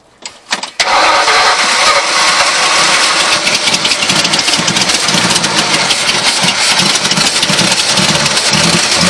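A 1994 Ford F150 pickup engine cranks briefly, then catches and roars into a loud, steady run that holds near and continuous, no voices over it.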